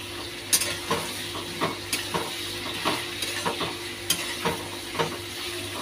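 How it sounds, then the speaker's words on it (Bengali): Potatoes and onions fry in a pan with a bright, constant sizzle while a spoon stirs them in regular scraping strokes roughly every half second, close up with no talking. "আলুর সাথে একবারে পেঁয়াজটাও দিয়ে দেব,"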